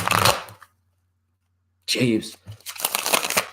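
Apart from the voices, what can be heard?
shuffling tarot cards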